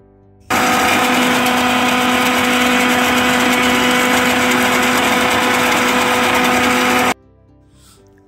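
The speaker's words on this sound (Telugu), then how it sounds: "చూడండి ఇప్పుడు మిక్సీ చేసుకుందాం." A kitchen mixer grinder whirs loudly while blending homemade coconut cream, starting abruptly, holding a steady high-pitched motor whine for about six and a half seconds, then cutting off sharply into near silence.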